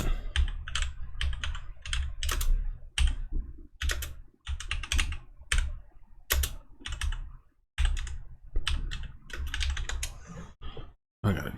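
Rapid, uneven typing on a worn computer keyboard with some letters rubbed off, keys clacking in close, loud bursts separated by brief pauses, with no voices.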